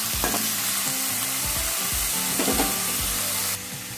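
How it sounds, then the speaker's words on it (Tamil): Bitter gourd sautés in oil in a pan, giving a steady close sizzle and hiss throughout, with a few soft stirring scrapes and low knocks of a spoon against the pan; no one speaks. "இது நல்லா வதங்கட்டும்."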